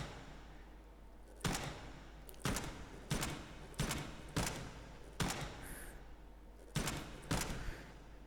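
Gunshots from a firearm in the VR game Hot Dogs, Horseshoes & Hand Grenades, eight sharp separate shots fired at an uneven pace over a low hum, close and loud against the quiet between them.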